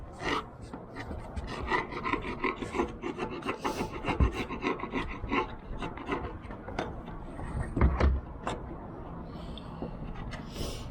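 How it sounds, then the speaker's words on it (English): A tool sands wood with harsh, gritty rasping in quick irregular strokes, close and steady for several seconds, with no one talking. "I'm gonna go get the sander."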